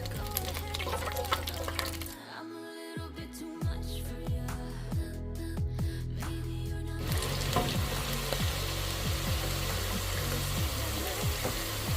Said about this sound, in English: Then we're going to drop them back again.